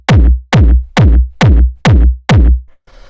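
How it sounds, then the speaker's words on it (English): Six punchy 909-style techno kick drum hits at 136 BPM, loud and dry, each a sharp thump with a short booming tail, evenly spaced about half a second apart before stopping. "The first sound that we have is the kick, which sounds like this."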